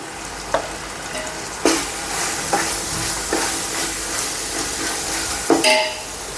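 Coriander powder stirred into chicken biryani masala frying in a pan, continuous sizzle with sharp spoon scrapes and clinks against the pot every second or so, close and clear.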